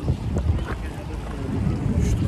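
Motorboat entering the Blue Lagoon in Malta, with a steady loud rumble of engine and water under strong wind buffeting the microphone, close and continuous throughout.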